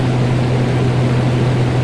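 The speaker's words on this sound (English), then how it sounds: "The pitch is very high and it means the engine is very fast, working fast." High-pitched airplane engine drone from a Unity game, a steady loud whine with a strong sustained hum that runs unchanged and uninterrupted throughout.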